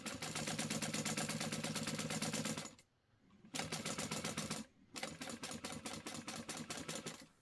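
A sewing machine stitches a 3/8 stitch down the sides of a Rosie Sling. It runs in three close, steady mechanical bursts, a long run, a short one and another long one, with brief quiet pauses between them.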